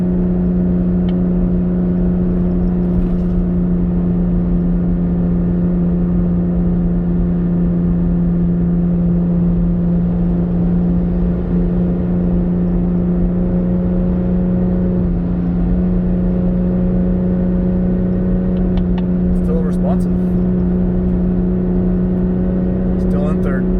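A supercharged 2018 Toyota Tacoma climbs a steep grade while towing, its engine holding a steady, loud drone at high revs without a break, with a voice talking over it.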